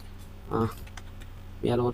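Keys on a computer keyboard clack softly and briefly at close range, with someone talking over the short stretch of typing.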